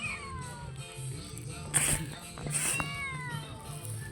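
A cat meows several times, drawn-out and whiny, fairly close, over a faint background hum.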